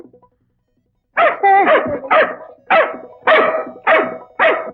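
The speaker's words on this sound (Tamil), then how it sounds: "ஏன் உன்னை பார்த்து நாய் குலைக்குது?" A dog barks in a run of about seven loud, close barks after a short quiet start, inside a home near the kitchen.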